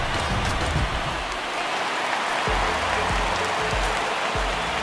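Home crowd in the MLB The Show 19 video game, Cubs versus Brewers, cheering at the start of the game, a dense continuous roar of stadium noise with scattered low thumps, loud and without pauses.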